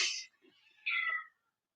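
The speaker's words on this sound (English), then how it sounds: "Cat's going crazy." A cat meows twice outdoors near a neighbor's roof, two short clear calls separated by a pause, fairly faint and alone with no voices.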